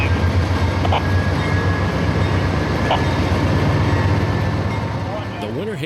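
An ethanol freight train rolls past near the Winter Haven Amtrak station in Florida, a steady loud low rumble of wheels and cars holding throughout, with a faint squeal near the end.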